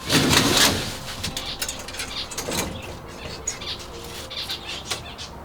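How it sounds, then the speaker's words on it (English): Finch chicks calling from a nest inside a cramped birdhouse, thin squawks and chirps mixed with wing flapping and a brief louder rustle at the start, with no talk. "Right above my head, there's a nest full of chicks. I haven't seen them yet, but I can hear them."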